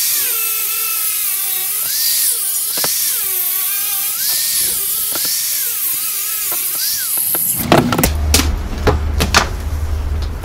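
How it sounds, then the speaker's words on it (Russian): Power tool cutting off part of a car heater radiator, a loud high whine rising and falling in pitch with repeated strokes, ending in clattering and scraping of metal. "берем, откладываем трубки и отпиливаем вот эту часть"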